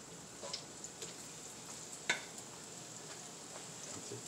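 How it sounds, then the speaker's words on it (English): Shrimp frying in a pan for tacos, a faint, even sizzle with a few small pops and clicks, one sharper tick near the middle, no voices. "Let this bad boy fry out"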